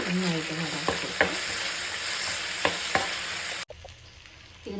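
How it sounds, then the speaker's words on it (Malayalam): Tomato sauce being stirred into onion rice frying in a pan: a loud steady sizzle broken by several sharp spoon scrapes and knocks, with a brief dropout near the end and no talk. "ഈ സോസ് ആഡ് ചെയ്ത് നന്നായിട്ട് ഇളക്കി കൊടുക്കുക."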